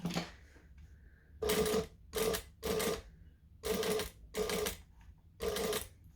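Sewing machine top stitching a bag, six short close bursts of stitching separated by quiet pauses, moderately loud, with no talk.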